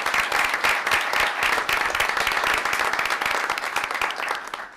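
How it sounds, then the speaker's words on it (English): Audience applause at a Veterans Day ceremony, steady and full crowd clapping that holds for several seconds before tapering slightly. "I had asked for another round of applause that the chairman had mentioned"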